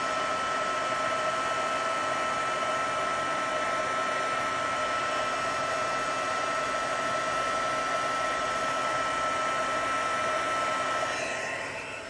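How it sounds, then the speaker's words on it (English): Heat gun melting embossing powder on a stamped floral wreath card, a loud constant blowing whir with a steady whine held close for the whole stretch, easing slightly at the very end. "I also love doing the heat embossing when I'm using white."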